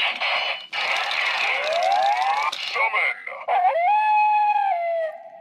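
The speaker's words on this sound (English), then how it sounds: "Which is like a howling noise." A Kodiak Zord Star toy plays an electronic howling effect, loud and close: a rising wolf-like howl that slides upward, then ends in a steady, sustained wail.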